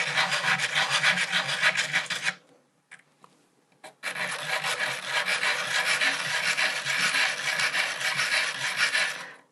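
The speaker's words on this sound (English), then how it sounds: "So by doing a figure of 8 shape, it helps you to get all of the edge sanded at once." The edge of a metal locket is sanded in a figure-of-8 motion, making a loud, close, continuous rasping scrape that stops briefly for a short pause with small taps and then resumes.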